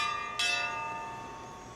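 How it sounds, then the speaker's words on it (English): A single struck bell in the video game Pillars of Eternity II: Deadfire, one sharp clang that rings on and slowly fades over a faint background hum. "Who's rung the bell and why?"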